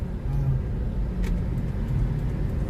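A car being driven on a road, its engine giving a steady low hum with road noise, close and continuous, with faint voices underneath.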